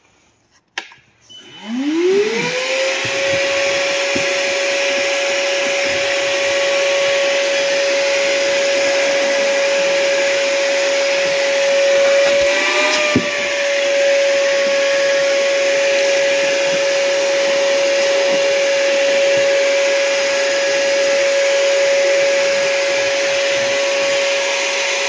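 A Ryobi 40V battery shop vac, used with only the hose attached, spins up with a rising whine and then runs as a loud, steady whooshing drone up close, with a brief dip partway through.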